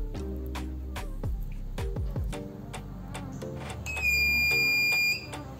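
A faulty car power inverter gives off a repeated electronic beep under a ticking rhythm, with a loud sustained tone near the end.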